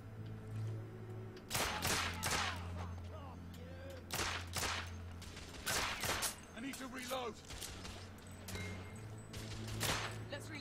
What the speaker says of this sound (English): Why would a pistol from this sort of period be automatic?